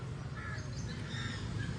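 Crows caw repeatedly among other birds at a zoo, a steady chorus of harsh calls at moderate distance over a low background rumble, with no talk.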